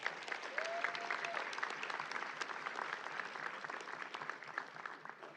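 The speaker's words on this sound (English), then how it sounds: "I think we should just give a round of applause for our wonderful young people." A round of applause for graduating seniors at a high school senior awards ceremony, a continuous wash of many hands clapping at moderate distance, fairly quiet, with a brief tonal sound early on.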